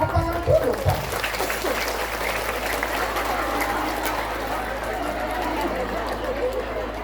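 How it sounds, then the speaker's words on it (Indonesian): Audience applause at an Islamic religious gathering in Indonesia, a sustained mass of clapping with background chatter and a low hum throughout. "Tepuk tangan dulu, Pak"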